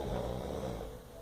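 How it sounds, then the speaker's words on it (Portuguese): One drawn-out, rumbling snore from a sleeping person, close and fairly quiet, fading slightly toward the end. "Esse ronco, hein?"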